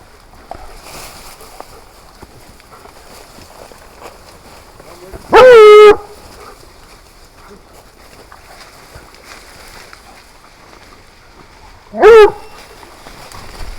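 Hunting dogs bay in two loud, sharp bursts, one near mid-clip and another toward the end, over a faint outdoor background.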